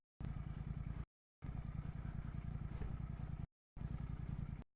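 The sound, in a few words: Royal Enfield GT650 motorcycle riding on a bad road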